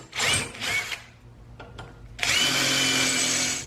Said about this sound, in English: we have all the holes drilled in the aluminum firewall